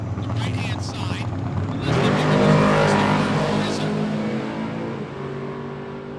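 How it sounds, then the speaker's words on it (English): A 1987 Mustang drag racing down the strip at a live event, a loud engine roar swelling as the car launches and passes, then fading, with commentary talking over it. "Nice looking bright orange Mustang coming up over on the left-hand side"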